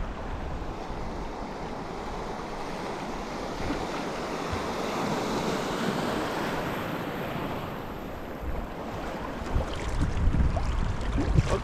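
River water rushing past a small boat on a minor Yukon wilderness rapid, a broad, steady wash with wind buffeting the microphone, swelling toward the end with louder splashing close by.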